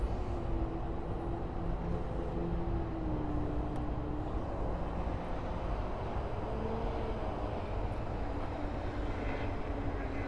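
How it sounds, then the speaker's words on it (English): Boeing 787-9 Dreamliner jet at Miami airport, a steady broadband engine roar with a faint whining tone wavering through it, continuous and fairly distant, with no voices. "787-9 Dreamliner"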